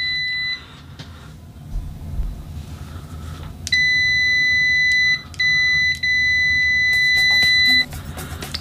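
A KAIWEETS ST600Y smart multimeter's continuity beeper sounds loud, steady high-pitched tones at maximum output, a few sustained beeps with short gaps, preceded by faint brief chirps.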